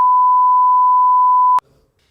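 Censor bleep over a podcast conversation, one loud steady tone lasting about a second and a half that cuts off sharply, followed by a faint trace of voice.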